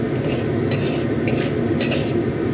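Cashew nuts fry in hot oil in a pan and give a steady, loud sizzle. A spatula scrapes and stirs through them with soft clinks at intervals, and there is no talk.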